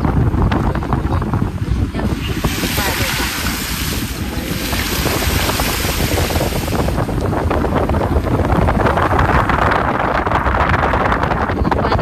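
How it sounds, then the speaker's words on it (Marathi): Torrential cloudburst rain pours onto a flooded road: a loud, unbroken broadband roar of rain and rushing water, with wind buffeting the microphone, continuing steadily for the whole stretch without any talking. "हे बघा मित्रांनो किती पाऊस चालू"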